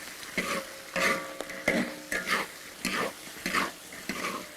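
Crayfish being stir-fried in a hot wok, a spatula scraping and tossing in repeated rhythmic strokes roughly every half second, each stroke bringing a burst of sizzle, close and clear with no talk.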